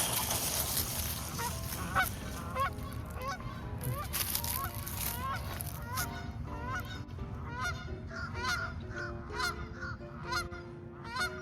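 A flock of geese honks repeatedly and excitedly, many overlapping calls at close to mid distance over a low rumbling background of a 1/14 scale RC stadium truck chasing them.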